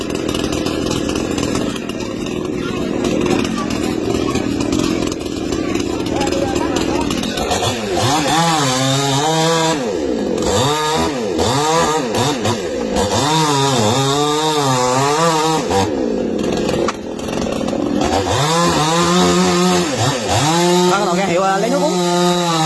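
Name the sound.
chainsaw cutting a tree trunk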